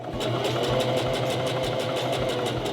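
A sewing machine runs steadily, stitching two puff quilt squares together up to the midpoint, its fast even needle rhythm continuous and close throughout with no talking.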